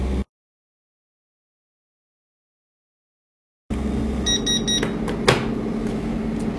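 A vacuum pump runs inside a compact 3D vacuum sublimation machine for printing phone cases, a steady close mechanical hum that starts after a stretch of silence, with a short series of beeps partway through.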